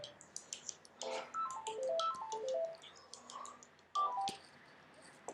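A phone sounds several stepped electronic tones in a short melodic pattern during a call, with a second burst near the end, fairly quiet and clear.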